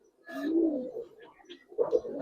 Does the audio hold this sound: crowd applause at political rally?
no